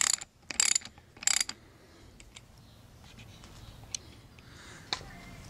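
A socket ratchet loosens a bolt on a 2008 Fox 32mm Talas suspension fork, giving three loud, close bursts of rapid clicking in the first second and a half, then only a few faint, scattered ticks in a quiet room.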